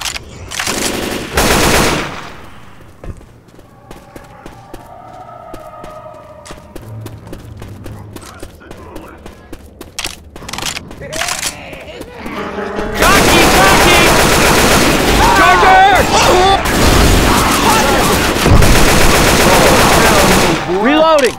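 Left 4 Dead 2 gunfire: rapid automatic bursts and scattered shots, loud and dense in the second half, with the game's characters calling out between volleys.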